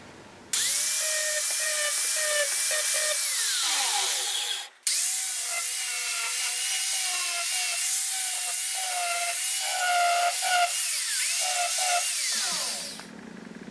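An angle grinder or similar power tool whines loudly and steadily while cleaning spots on a steel profile pipe before welding, its pitch rising and dipping under load, with one brief cutoff midway and a spin-down at the end.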